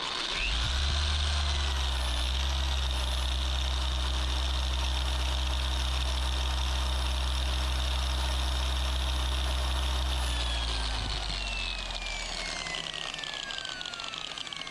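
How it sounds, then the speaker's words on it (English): Car polisher motor running steadily at its 4th speed setting, a loud continuous whine and hum with low droning harmonics, alone and unbroken for the full stretch, easing slightly toward the end. "And this polisher as well, all set on the 4th speed setting."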